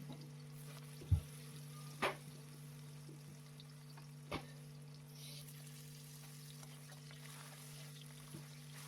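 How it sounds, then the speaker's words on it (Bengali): Raw green bananas frying in oil in a pan, cooked for shukto after lentil dumplings in the same oil. A steady, quiet sizzle runs throughout, broken by a few sharp clinks of a utensil. "ওই তেলেই আমি কাঁচা কলা ভেজে নিচ্ছি।"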